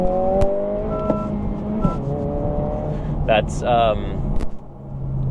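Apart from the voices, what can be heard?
2025 Honda Civic Si engine revving, rev matching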